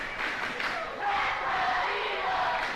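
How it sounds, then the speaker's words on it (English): Home crowd at a high school football game between Hilo and Waiakea, with loud seniors cheering and roaring steadily at a distance, a sustained wash of voices. "Crowd is getting hyped up. They're fired up over here."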